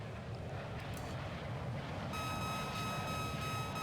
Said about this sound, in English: That's the APU again, needs to get turned on.